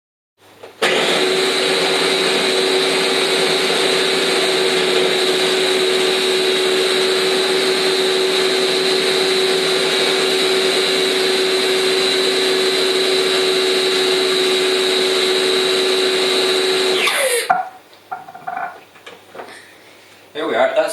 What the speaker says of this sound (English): The main reason for doing the pasta in the food processor like this is it makes it very easy to get the consistency just right.